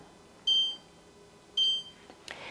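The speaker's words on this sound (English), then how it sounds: "You can set the timer for 7 or 8 minutes. I'll do that now." Setting a kitchen timer while an omelette cooks gives two short, clear electronic beeps about a second apart, each standing alone against a quiet room, followed by a brief soft clatter.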